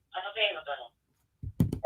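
A newly installed telephone rings indoors with a few short electronic tone bursts, followed after a brief pause by a voice beginning to speak.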